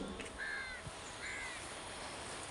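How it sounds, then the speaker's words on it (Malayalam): Crows caw a few times in the distance at dusk over a soft, steady outdoor hush. "കാക്കകളും കിളികളും എല്ലാവരും അവനവൻ്റെ കൂട്ടിലേക്ക് പോവുകയാണ്."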